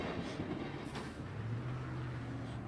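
A long freight train rumbles past steadily, a continuous loud roar of wheels on rails with faint rhythmic clatter and a low squealing tone.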